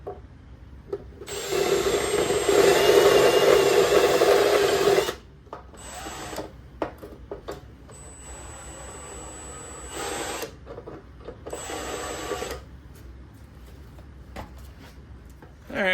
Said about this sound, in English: several minutes of fighting with that hole saw spot weld removal tool